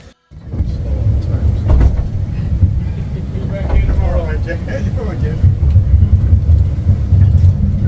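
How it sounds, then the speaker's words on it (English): A steady rumbling ride on a train, with rolling mechanical noise throughout and people talking over it. "On the train, choo-choo."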